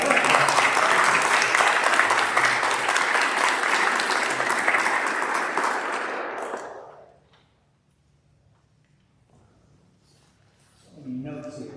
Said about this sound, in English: If you can give them a round of applause for being our friends.